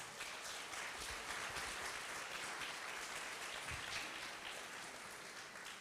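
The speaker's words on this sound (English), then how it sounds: "Can we get a round of applause for Kaylee?" A town hall audience applauds steadily, dense clapping heard at some distance and holding evenly throughout.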